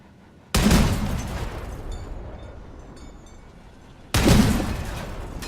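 Weapons on a walking spider-legged build in the vehicle combat game Crossout fire in two loud, sustained bursts, each hitting hard and then tailing off into a rumbling roar.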